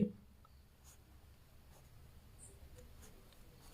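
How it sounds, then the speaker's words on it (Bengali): A pen scratches faintly on paper as a math solution is written out by hand, with soft intermittent strokes in a quiet room. "সাইডে আমি লিখে দিচ্ছি উভয় পক্ষে"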